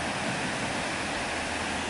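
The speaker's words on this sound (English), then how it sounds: "we know that's the canal flowing into this creek." Canal water pours over a dam into a snowy creek, a steady, broad roar of rushing water that stays constant and close throughout, with no talking.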